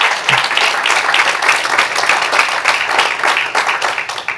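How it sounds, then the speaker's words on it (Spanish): Congregation clapping during a church sermon, a dense sustained round of applause from many hands, fairly loud and continuous, with no speech over it. "Vuelve a dar ese aplauso a Jesús"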